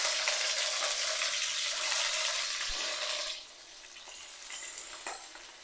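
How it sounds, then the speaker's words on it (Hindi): Chandan gola kababs shallow-fry in one to two tablespoons of oil, giving a strong, close crackling sizzle that drops abruptly to a quieter, steady hiss partway through, with a few faint taps and no voices. "फिर इन कबाबों को उसके अंदर रख के इसको शैलो फ्राई करेंगे।"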